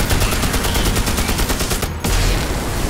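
Rapid machine-gun fire from an M60 in the video game Magicka comes as a dense, loud, continuous burst of shots that briefly cuts out and then resumes, with no talk over it.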